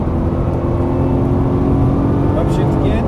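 A Nissan GT-R engine revving hard through an upshift on a track, a loud, close, continuous roar with a brief change in pitch near the end; a voice speaks over it.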